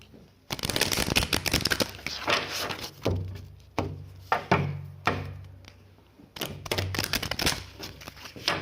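Tarot cards being shuffled by hand, bursts of riffling and slapping with soft thuds as the deck is tapped and cut, close and fairly loud with short pauses between rounds.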